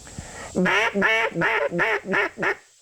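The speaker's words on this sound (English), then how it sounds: "All right, contented call." A duck call blown as a contented call: six evenly spaced, close, clear quacking notes, each a short nasal burst with slight raspiness, in a steady rhythm with no talk.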